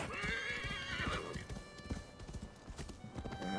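A horse in Assassin's Creed Valhalla whinnies loudly at the start, then its hooves clop in quick, uneven beats close by, with no talking over it.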